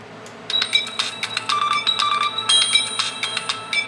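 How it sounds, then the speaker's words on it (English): A Samsung Gear 2 smartwatch plays a bright electronic ringtone, a rapid melodic pattern of chiming tones repeating steadily and loud, close up with no talking. "you can change your ringtones"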